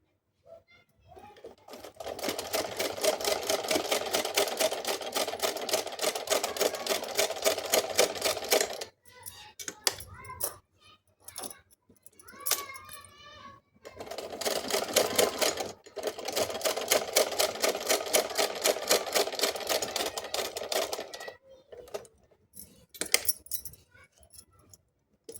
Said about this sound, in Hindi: ये देख सकते फ्रेंड्स मैंने इसकी सिलाई कंप्लीट कर ली।